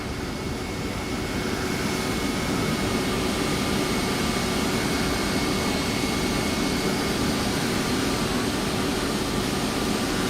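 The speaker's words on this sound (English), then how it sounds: "We're gonna go to the outside view so we can hear the engine shut down." An airliner jet engine in the X-Plane 12 flight simulator, heard from an outside view during shutdown, gives a constant broad roar and hiss at a steady level throughout.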